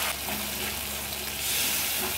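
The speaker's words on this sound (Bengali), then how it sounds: "এবার এটাকে ভালো করে কষতে হবে" A cashew-poppy paste masala fries in a pan and gives off a dense, steady sizzle. The sound is close and loud, with faint stirring scrapes and no voices.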